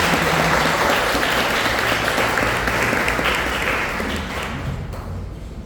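A church congregation applauds during a sermon, a loud, dense wash of clapping that carries on for several seconds and then tapers off slightly toward the end.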